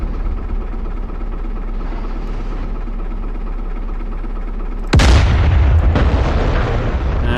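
A self-propelled artillery unit fires in DCS World: a low engine drone hums steadily, then one loud, sharp cannon blast booms out, followed by a second, fainter shot a moment later.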